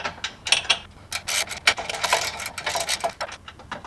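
Mounting hardware is screwed down on a Lippert electric power jack on a trailer, giving close, busy ratcheting clicks and metallic scraping in irregular bursts, with no voices.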